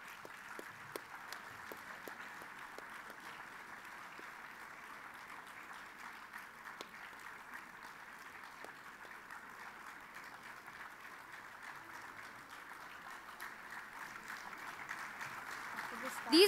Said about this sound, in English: These artists truly deserve a huge round of applause.